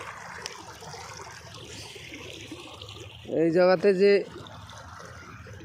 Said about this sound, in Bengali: এই পানিটা এই ডিপ টিউবওয়েল ওখান থেকে আসছে।